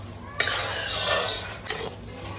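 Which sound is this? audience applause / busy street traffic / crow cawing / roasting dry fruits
roasting dry fruits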